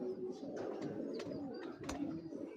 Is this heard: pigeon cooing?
yes